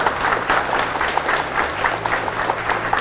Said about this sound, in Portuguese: Uma salva de palmas aos meus convidados que estão aqui